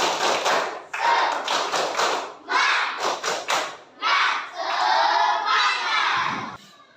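Schoolchildren in a classroom clap and shout a spirited rhythmic chant, with patterned bursts of taps, thuds and group voices separated by brief pauses, loud and close.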